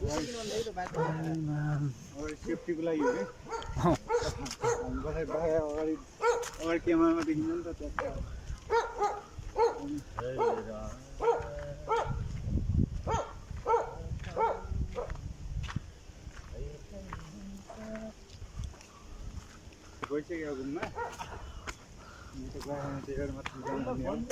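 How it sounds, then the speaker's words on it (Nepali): A dog barks repeatedly on a forest trail near Shivapuri, the barking mixed with footsteps and fairly loud, continuous talking from a group of hikers. "ए केटाहरू सावधान कुकुर रहेछ"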